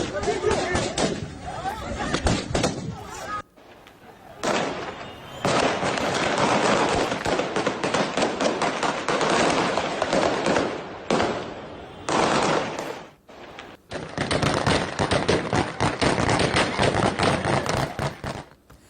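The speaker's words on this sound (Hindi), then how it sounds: "काबुल एयरपोर्ट पर आकर के तालिबानी किस तरह से बम, गोले बारूद बरसा रहे हैं" Heavy gunfire and explosions attributed to the Taliban at Kabul airport, dense bursts of rapid cracking shots in long volleys broken by brief pauses, loud and close with faint crowd noise beneath.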